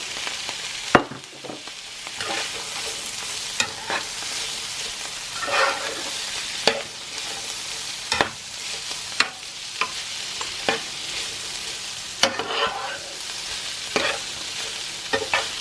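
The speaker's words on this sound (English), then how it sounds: "So the next thing I'm going to add in is the peas." Shrimp and frozen peas fry in a pan, a continuous close sizzle broken by regular scraping stirs and occasional utensil knocks, with no voices.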